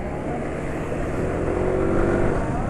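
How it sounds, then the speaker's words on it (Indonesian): A motorcycle engine running on Shell Helix HX3 20W50 oil drones steadily at close range, its tone rough and uneven, RPM dropping quickly, with no voices. "RPM mesin cepat turun, suara mesin kasar, nggak licin."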